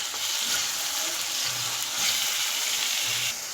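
A chopped tomato frying over low heat, a steady soft sizzle and crackle running evenly throughout with no voices.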